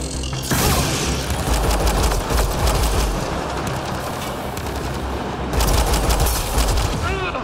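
Sustained heavy gunfire during Mass Effect: Andromeda combat, a dense near-continuous barrage with sharp louder bursts near the start and again toward the end, with a voice speaking over it.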